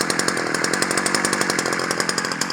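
A Ryobi 14-inch chainsaw runs close and loud, its engine buzzing in a fast, evenly pulsing rhythm throughout with no talking.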